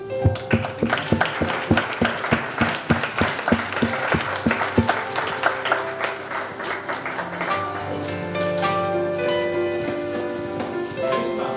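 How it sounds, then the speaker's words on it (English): An audience at the InnovMatch Grand Finale in Prague claps loudly for a four-member finalist team. Dense, rapid applause fills the first six seconds, then thins out as a musical tone rises and carries on alone. "So let's clap our hands for Sabris."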